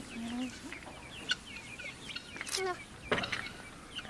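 Backyard chickens cluck and call softly nearby in a busy scatter of short notes, with a few sharper squawks, among ducks being fed.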